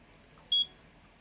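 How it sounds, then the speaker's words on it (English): An Arduino-built Counter-Strike bomb replica for gel blaster matches gives a single short, high electronic beep just after arming, crisp and close against near silence. "And it'll beep for 40 seconds just like the real game."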